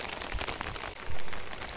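Heavy rain pours steadily in Jaffna, a dense continuous hiss close by with a brief louder surge partway through, no voices.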